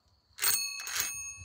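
A bicycle bell rings twice in quick succession, bright metallic chimes with a lingering shimmer, close and fairly loud against a quiet room.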